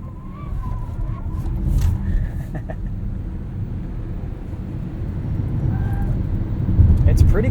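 A 2021 Ford Mustang Mach-E Premium AWD launches hard in Unbridled mode, a low, building road and tyre rumble with faint electric whine tones, steady and close throughout.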